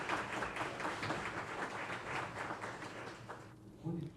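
An audience at a film festival seminar in Tokyo applauds the speakers with a full, steady round of clapping that thins near the end as a voice begins to speak.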